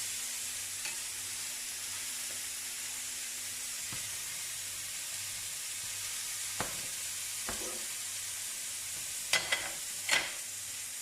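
Foie gras frying in a dry pan without oil, cooking in its own fat, makes a soft continuous hiss with a few faint clicks and taps near the end, quiet and without talk.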